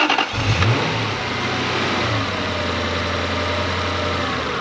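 A Toyota Soarer / Lexus SC400 with an idle fault starts and its engine is held on the throttle, a near, steady mid-pitched drone with a brief rise in revs early on, alone without talk.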